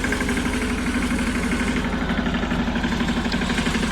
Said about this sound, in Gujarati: તો ટ્રેક્ટર છે વાડીએ